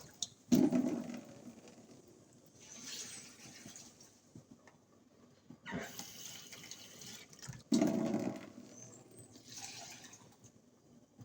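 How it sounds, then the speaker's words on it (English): Water splashes and pours in short bursts into a blender with coconut, with quiet gaps between them, close by and moderately loud. "Pour in some water."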